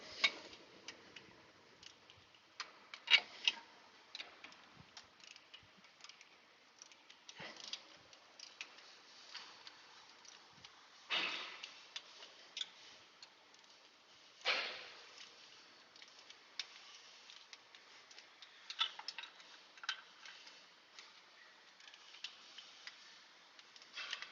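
A torque wrench set to 15 foot-pounds tightens bolts, producing faint, close, irregular ticking and clicking with occasional sharper snaps and scuffs, no voices.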